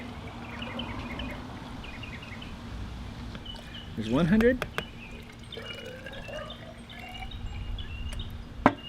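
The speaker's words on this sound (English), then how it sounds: "we need to top this up to 1 liter, so it's going to use about 190 milliliters of water" Water poured into a hand sanitizer mixture being topped up to one liter, a brief gurgling pour in the middle, with a person speaking briefly and light clinks around it.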